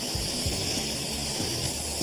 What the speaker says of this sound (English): Don't spray directly on that, and do not hit Rosemary's plants